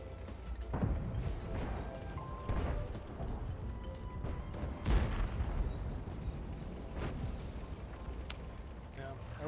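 A self-propelled artillery gun fires in the World of Tanks game, with several dull, faint booms spaced a few seconds apart under talk and game noise.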